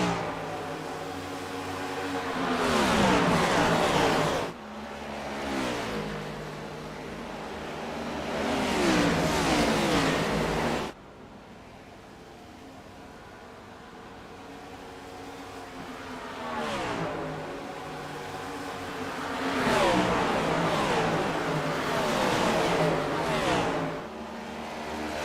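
Race car engines roar and rev in iRacing, a sim racing game, with several loud passes building and fading as cars accelerate and shift over about twenty-five seconds, with a brief quieter gap between bursts.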